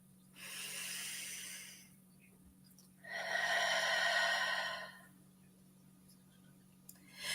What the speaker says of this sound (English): One more deep breath in.